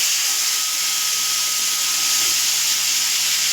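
Raw banana and potato pieces soaked in turmeric drop into a hot pan, giving a steady, even hiss of frying that holds loud and unbroken from start to finish, close by with no voices.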